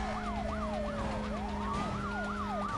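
Police car sirens wail in the Need for Speed: Most Wanted video game, several overlapping rising-and-falling sirens over a steady engine hum, loud and continuous with no talk.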